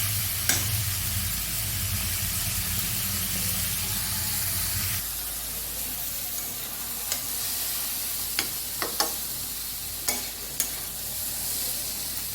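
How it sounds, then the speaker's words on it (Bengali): Ash gourd chechki with chopped coriander leaves being stirred in a pan, a steady sizzling fry with a low bubbling in the first few seconds and occasional sharp scrapes and clinks of the spatula against the pan. "নেড়ে চেড়ে নামিয়ে নেব।"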